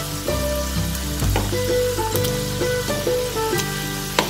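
Momos frying in hot oil give a constant crackling sizzle, close and moderately loud, with soft bubbling and a few light clinks as they are turned, and no talk.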